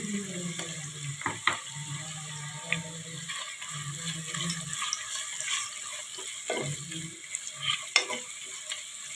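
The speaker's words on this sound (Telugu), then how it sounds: "కరివేపాకు రబ్బ, మొత్తం వేసుకొని కలుపుకుందామండి ఒకసారి." Curry leaves stirred and frying in a pan for chicken biryani, a steady crackling sizzle close by with repeated scraping and clinking of a spoon against the pan.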